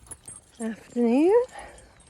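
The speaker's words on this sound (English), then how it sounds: "Just walking with the dogs on the common." Dogs out on a walk across a common give a short whine and then a longer, rising whimper, close by and fairly clear, with faint outdoor background between the two.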